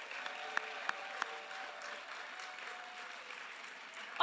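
A crowd at an equity awards ceremony claps steadily at moderate loudness, a few sharper individual claps poking out early before the sound tapers slightly.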